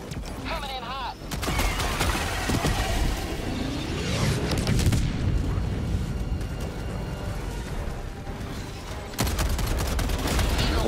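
Video game air support strike: rapid bursts of gunfire and booming explosions crowd together in a sustained loud barrage, with voices calling out amid the chaos.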